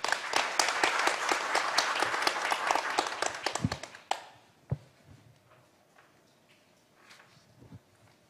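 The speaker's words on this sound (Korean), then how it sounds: "박수로 맞아주십시오." An audience at the 2022 Jeju Forum session on space industry policy gives brisk, close applause for about four seconds, which stops abruptly and leaves a quiet room with a few scattered taps and footsteps.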